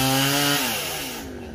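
A chainsaw cuts through a coconut palm about ten metres tall, its loud engine whine holding steady, then dropping in pitch as the blade bogs into the trunk and slowly fading.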